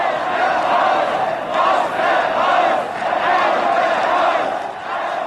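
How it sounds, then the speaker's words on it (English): An enormous crowd in Dresden, East Germany, in December 1989 chants in loud, sustained rhythmic waves that swell and ease several times, a dense mass of many voices. "The crowd chanted, "Germany United Fatherland.""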